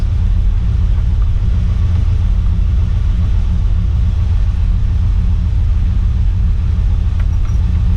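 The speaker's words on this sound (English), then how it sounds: "I forget how easily this car starts" Ford Falcon XC wagon with a 351 V8 idling, a steady deep low rumble that stays loud and even from start to finish, with no talk over it.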